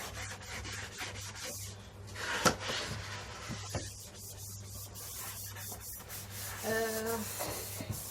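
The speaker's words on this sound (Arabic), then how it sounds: "هغسل بس كده الحنفيات" Soft, continuous scrubbing and rubbing strokes on kitchen faucets, close by and fairly quiet, with a few small knocks and clinks.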